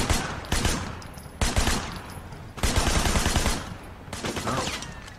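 Repeated loud bursts of gunfire in the video game Sleeping Dogs, four clustered volleys of rapid shots with short gaps between them, close and dense.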